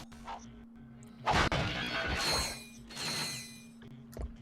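A box breaker smashes crates in the Ratchet and Clank video game, giving a sharp crash and a couple of rattling bursts over a low mechanical hum, with no talking.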